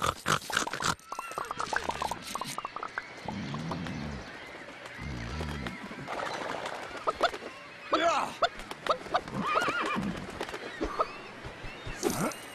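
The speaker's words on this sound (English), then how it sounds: "oinking coming from somewhere up high" Pigs oink and grunt in the Nintendo Switch game Lego City Undercover, with repeated snorts across several seconds, interspersed with clattering game effects and occasional brief sounds.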